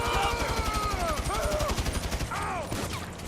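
Video game gunfire landing a headshot, quick shots rattling in a loud burst while voices talk and exclaim over the firing.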